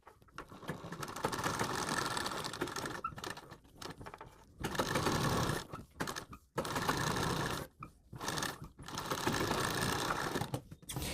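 A sewing machine stitches a coat collar, running in long steady bursts broken by short pauses, with a close, even whirring rattle throughout.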